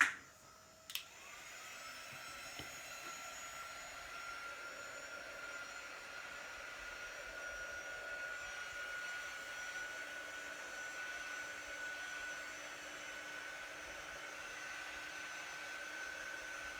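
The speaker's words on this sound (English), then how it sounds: "hit it with a dryer real quick" A hair dryer clicks on and blows with a steady, airy whir that holds constant for a long stretch, close and moderately loud.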